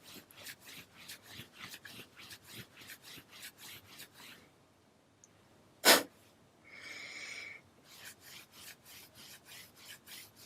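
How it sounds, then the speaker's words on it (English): Hands rubbing the side of the body, ribs and torso during a Tibetan yoga exercise, a soft rhythmic rasping swish repeated steadily and close, broken by a pause, a brief sharp sound, and a short breathy hiss before the rubbing resumes. "this time you can rub the whole side body"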